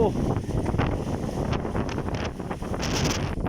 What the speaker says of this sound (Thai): ลม แรงมากนะครับเด้อพี่น้องครับ